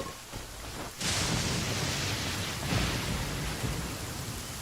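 Steady, dense rain falls in the Genshin Impact video game, a broad continuous hiss with a low rumbling swell partway through, loud and uninterrupted with no voices.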